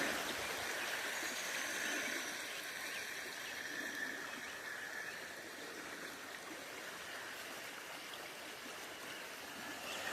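Shallow, low-water stream in a forest preserve near Duluth, a steady broadband rush of flowing water with a soft babble, continuous and moderately near, no voices.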